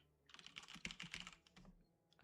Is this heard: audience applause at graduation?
no